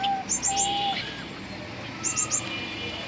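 A pet cockatiel and other caged birds chirping while they eat, with short bright tweets and calls in two clusters near the start and later, against quiet room background.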